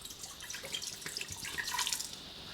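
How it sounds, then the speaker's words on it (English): Apple cider vinegar pours into an Instant Pot for pulled pork, a soft continuous trickling splash with faint drips, heard close but quiet and without talk. "just pour that in."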